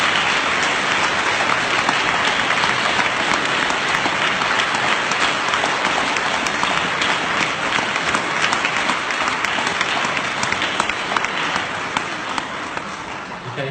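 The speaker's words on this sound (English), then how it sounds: "if we could have another big, massive round of applause for the children's team" Sustained, loud audience applause for a children's team at a school speech event, dense steady clapping filling the whole stretch and easing slightly near the end.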